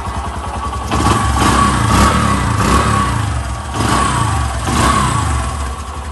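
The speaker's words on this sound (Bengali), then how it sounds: "ইঞ্জিনের সাউন্ড" A 2013 Bajaj Discover 125cc motorcycle engine idling up close, a loud, steady single-cylinder putter with slight rhythmic surges and no talking.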